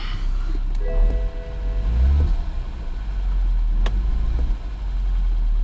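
A previously totaled BMW 114i with a steady engine hum running close by, a slight rise in revs around the middle, and no talking.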